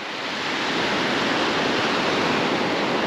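Calm sea water at Praia do Canto do Poá in Penha, Santa Catarina washes in a continuous broad hiss that swells in at the start and holds steady, with small waves lapping close by.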